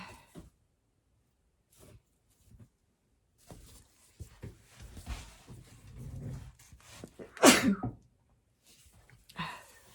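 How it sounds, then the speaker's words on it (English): A single sharp sneeze stands out near the end of a mostly quiet stretch with scattered small handling noises and soft movement. "Sorry for the sneeze."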